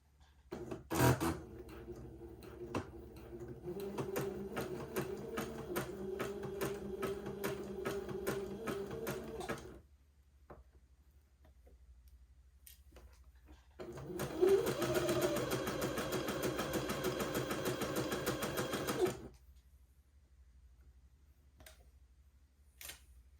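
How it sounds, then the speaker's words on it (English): A sewing machine runs in two long bursts of rapid mechanical zigzag stitching, sewing lace onto a dress, with a quiet pause between them and light handling noises. "Now I've already got my sewing machine set for the appropriate zigzag."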